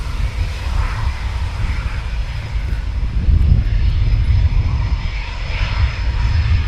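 A Royal Air Force 12 Squadron military jet taxis past at RAF Coningsby, a loud, continuous, close engine roar that grows heavier midway through, with no voices.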